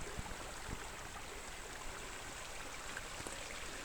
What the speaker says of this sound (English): The brook is on the other side of me now.